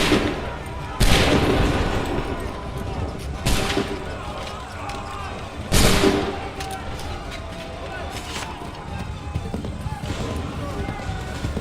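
Musket volleys in Assassin's Creed III, three loud booming volleys spaced a few seconds apart with scattered crackling shots between them, and voices talking throughout.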